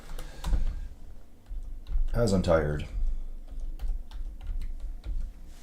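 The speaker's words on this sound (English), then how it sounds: "then I'll do my horrible typing in the dark" Fingers tap quickly on a computer keyboard in a dark room, giving short light clicks in brief runs under a person's nearby talking.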